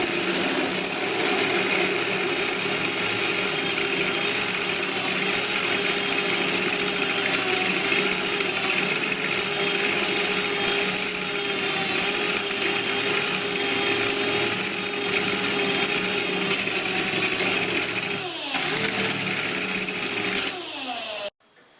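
A homemade steampunk pillar drill runs with a steady motor whine and hum for about twenty seconds, drilling a hole, before slowing down and stopping near the end; no voices.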